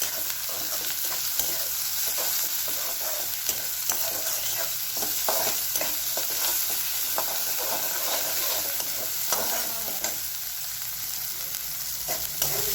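Potato curry seasoned with salt, turmeric and ground masala sautés in a pan, with a steady sizzle and repeated scraping stir strokes throughout, close and moderately loud, with no talking.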